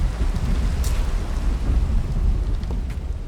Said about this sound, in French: Il fait encore jour mais il pleut quoi.